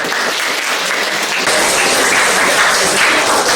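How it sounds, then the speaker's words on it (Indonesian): A classroom of students applauds together, steady dense clapping that swells a little partway through and holds at a loud, even level. "Tepuk tangan untuk kita."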